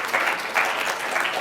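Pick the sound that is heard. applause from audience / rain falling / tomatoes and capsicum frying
applause from audience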